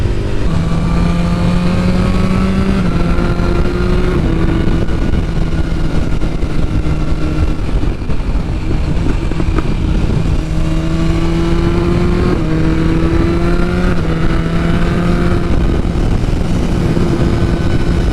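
A 2022 BMW S1000R Sport motorcycle ridden on an open road, its engine droning loud and steady, the pitch rising and falling with gear changes and throttle, heard from the rider's position with wind roar.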